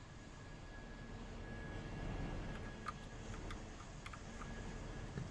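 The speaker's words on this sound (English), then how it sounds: "So many loud engines around." Engines in Train Simulator 2018 make a faint, steady low rumble, with a few light ticking clicks over it near the end.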